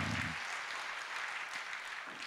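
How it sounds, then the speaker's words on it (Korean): A Sunday worship congregation at a Busan Baptist church claps warmly for the young people standing up. A brief low voice is heard at the start, then the thick, continuous applause holds steady. "자, 우리 청년들 우리 한번 격려하면서 우리 박수라도 크게 한번 쳐줘야지."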